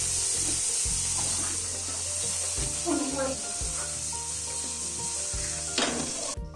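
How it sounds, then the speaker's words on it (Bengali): Hilsa fish fry in hot oil with a continuous hissing sizzle, accompanied by faint low clatter and occasional stirring noises. "আমরা গরম তেল এখন মাছটা দিয়ে দিব।"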